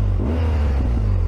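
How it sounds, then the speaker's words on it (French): A BMW R1200GS Adventure "30 Years GS" motorcycle with its stock exhaust and about 74,000 km on it revs up close, giving a deep, loud, throbbing engine rumble for just over a second. "ça pétarade un petit peu alors que je suis en échappement d'origine"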